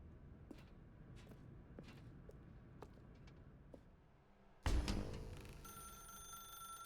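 In the video game The Stanley Parable, soft footsteps and faint clicks in a quiet room give way to a sudden loud telephone ring that starts abruptly and keeps sounding with a bright, sustained electronic tone.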